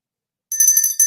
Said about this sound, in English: Usually I ring my gratitude bell